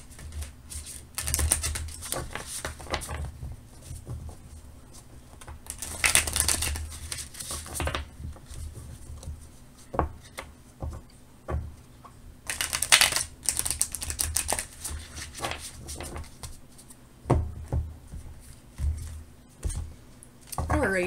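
Bursts of tarot cards being shuffled, crisp riffling in three or four separate runs with quieter gaps and light handling noises between.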